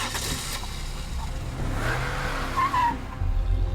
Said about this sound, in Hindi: उस ड्राइवर ने वापस अपनी गाड़ी स्टार्ट की और वहां से चल दिया